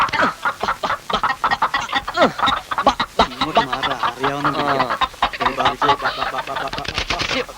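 A chicken is caught amid a scuffle, clucking and squawking in sharp bursts among loud, excited voices and thumps, the commotion close and continuous throughout.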